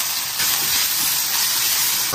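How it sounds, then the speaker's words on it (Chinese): Beef slices fry in a hot wok with a continuous loud sizzling hiss and faint stirring scrapes, close up and without voices. "下入牛肉片。"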